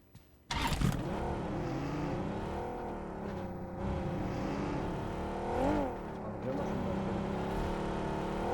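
An in-game vehicle engine in PUBG Mobile starts abruptly and drones steadily and fairly loudly, swelling briefly as it revs near the end, with voices faintly present at times.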